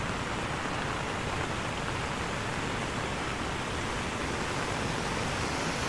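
Water pours over the Silver Waterfall in Sapa during the rainy season, a dense, unbroken roar of rushing water that stays loud and even throughout.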